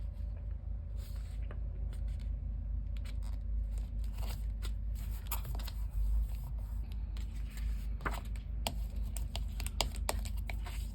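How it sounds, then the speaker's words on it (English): Sheets of paper rustle and crinkle in short, irregular bursts close by as they are shuffled and handled, over a faint steady hum. "let me just get my pieces of paper together again"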